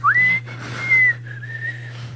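A person whistles a short song phrase alone and close by: clear, sustained tones that slide and shift pitch, with a brief break between phrases over a faint low hum.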